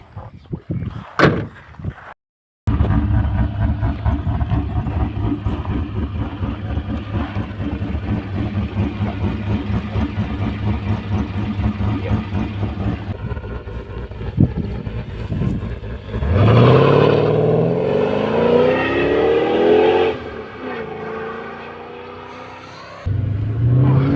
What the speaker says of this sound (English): shall we listen to the car?